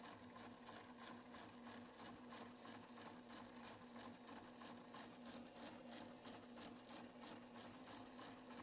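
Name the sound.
sewing machine stitching with patchwork foot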